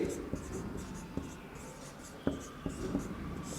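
A pen or marker writes out the first point of a maths lesson with steady scratching and several sharp taps and strokes, while a voice carries on faintly in the background.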